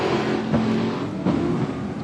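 AMCA speedway race cars racing on the Carina Speedway dirt track during a national final, a steady loud engine drone with brief surges as cars power through the bumps, heard at a distance without talk.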